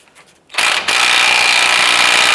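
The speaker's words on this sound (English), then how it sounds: "Switch over to our impact." An impact wrench loosens a lower control arm ball joint nut on a 2004-2012 Chevy Colorado, a loud, close, continuous hammering burst that starts abruptly after a few faint clicks and runs for nearly two seconds.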